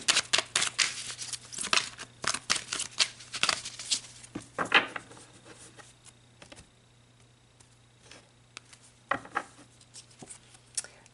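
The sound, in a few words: shuffling and pulling spiritual oracle cards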